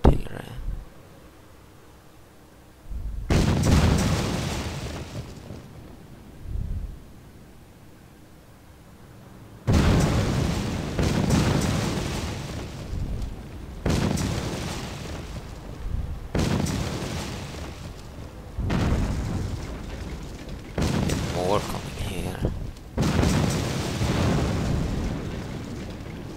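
Battle sounds from War Leaders: Clash of Nations, Operation Barbarossa German campaign: repeated long blocks of heavy, rumbling artillery fire and explosions, separated by short quieter gaps, loud and dense throughout.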